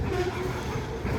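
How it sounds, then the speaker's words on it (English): A Norfolk Southern grain train rolls along track beside a pedestrian path in a metropark, giving a low, steady, fairly faint rumble with no horn or clear wheel clatter. "And I'm sure Norfolk Southern grain train"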